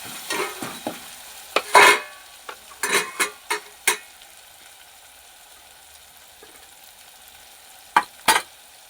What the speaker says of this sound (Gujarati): આપણા ટમેટું સારી રીતે પાકી ગયું છે અને હવે આપણે એમાં મસાલા નાખ્યું.